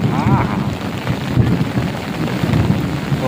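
Heavy downpour with thunder rolling through it, a loud steady rain hiss layered with deep rumbling and a brief sharper crack midway, some wind buffeting the microphone.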